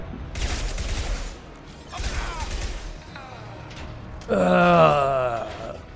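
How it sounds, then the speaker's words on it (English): Gunfire bursts from the video game Mass Effect 2 in broadband rattling volleys, followed by a louder closing stretch of combat noise with a voice rising over it. "Taking fire."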